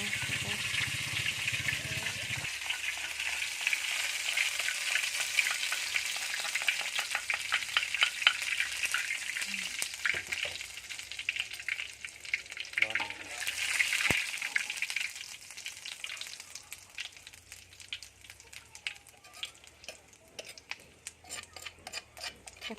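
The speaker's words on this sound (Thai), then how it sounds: "ตอนนี้ก็ถึงขั้นตอนการ คั่วหนูแล้วนะคะ ตั้งกระทะให้ร้อนนะคะ" Steady crackling sizzle and scraping from a hot pan dry-roasting minced field rat meat, continuous and close, with occasional clinks of a utensil stirring.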